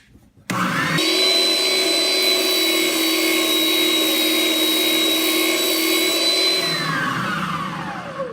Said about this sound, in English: I have a 2-inch diameter drum in our spindle sander here. So we'll go ahead and make this radius.